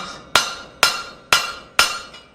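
A hammer rings sharply against a steel coal shovel on an anvil horn, four evenly spaced metallic strikes with bright ringing decay, close and loud with no speech.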